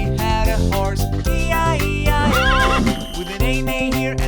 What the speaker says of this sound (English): And on this farm he had a horse